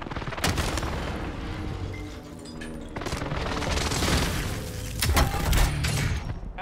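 Airstrike explosions in Call of Duty Warzone plunder mode, heavy booms and crackling blasts mixed with gunfire, loud and dense, with a big burst near the end.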